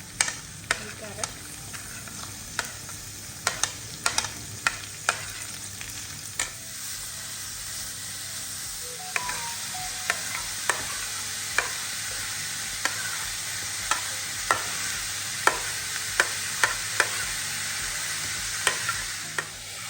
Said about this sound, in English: Now my aromatics are sizzling, so I'll start adding the veggies.